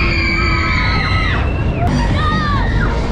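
Children scream and shout on a spinning carnival ride at an indoor Galactic Carnival in a shopping centre, loud overlapping high cries over steady crowd noise.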